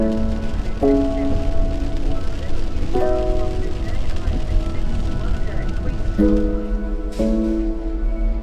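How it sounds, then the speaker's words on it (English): Steady rain falls on a hiking trail in New Zealand, a constant close patter and hiss running throughout, while a voice speaks intermittently over it. "it has been raining like all day today."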